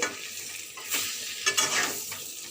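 Panch phoron, green chilli and bay leaf tempering in hot oil, a continuous crackling sizzle with a few sharper bursts of spattering and stirring scrapes, close and fairly loud.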